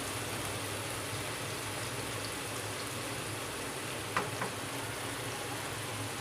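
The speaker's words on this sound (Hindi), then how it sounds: "प्याज को हल्का सा फ्राई करेंगे।" Onions frying lightly in a pan give a steady, even sizzle throughout, with a couple of faint clicks near the end and no talking.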